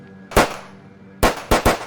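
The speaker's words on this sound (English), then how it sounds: "Be a gunshot. Hear that?" Gunshots in a Jamaican cartoon ring out as four sharp cracks, one single shot followed after a pause by three quick shots in a row, loud against a quiet background.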